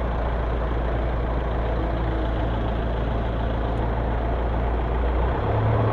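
A truck idles nearby with a constant low engine drone that stays even throughout, with a small shift near the end. No one speaks.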